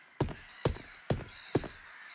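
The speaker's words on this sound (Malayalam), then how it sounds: "എന്താണ് കാക്കകളൊക്കെ ഇങ്ങനെ?" Crows caw in the Waterpark Simulator video game, four loud, evenly spaced calls close by with short quiet gaps between them.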